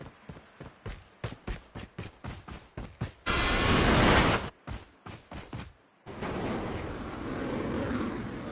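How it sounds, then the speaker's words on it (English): An aircraft roars in during a Call of Duty Mobile battle royale match, a loud broadband engine rush cutting across rapid rhythmic footsteps, fading briefly and then returning as a sustained drone; no talking. "The revived flight will arrive in 1 minute."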